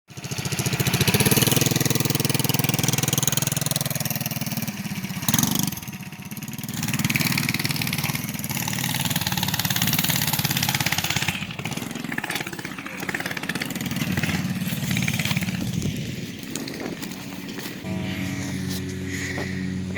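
Coleman CT100 minibike engine running outdoors, a loud buzzing small-engine drone that rises and falls with throttle, briefly dipping and revving again, with faint voices in the background.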